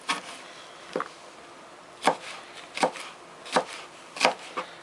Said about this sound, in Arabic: هنقطع معاه بقى برضو البصل الاخضر